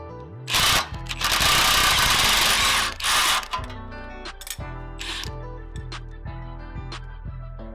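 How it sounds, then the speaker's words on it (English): A hand drill bores an oiled hole in a Jeep steering spindle: loud bursts of grinding whir start and stop, then give way to a low hum broken by several short, sharp mechanical clicks. "I put some oil around the hole we're drilling here, and I have my drill in the lowest position on the drilling setting here."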